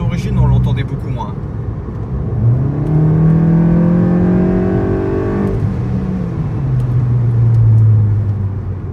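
A Golf GTI running on ethanol accelerates nearby with a rising engine note, then drops pitch on a gear change with a small exhaust pop, loud and close under someone talking.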